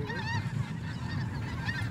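A flock of Arctic white geese honks steadily and densely, many overlapping calls forming a continuous outdoor chorus, loud and fairly near, with no voices over it.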